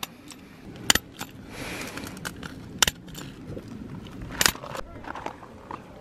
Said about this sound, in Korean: 이 스탬플러를 갖다가 비닐하고 벌크로 쪽에 연결을 해서 박아주고 있습니다